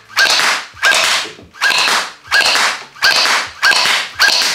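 Shots from a Gel Fire gel blaster strike paper in seven evenly spaced bursts, each a loud, sharp crack followed by a brief rushing rattle, close and with no talking.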